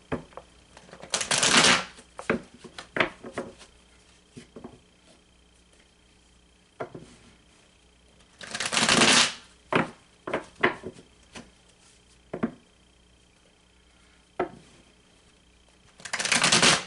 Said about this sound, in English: let me go ahead and give this another good shuffle here